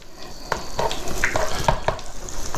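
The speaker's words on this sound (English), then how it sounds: "So now we add the onions, and we're going to let the onions cook like we normally do." Onions frying in oil and melted butter in a pan while making Steak Diane, a steady close sizzle broken by a few light stirring scrapes and clinks, with no talking.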